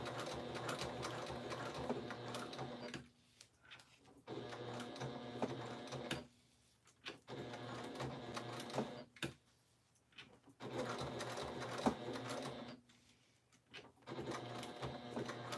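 A home sewing machine stitches fabric for a quilted zipper pouch, running in steady whirring bursts of a few seconds each, broken by brief pauses, close and clear with no talk.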